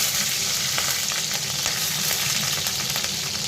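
Panch phoron, whole coriander seeds and green chillies sizzle in hot oil, giving a loud, steady, continuous frying hiss with faint crackles throughout and no talk.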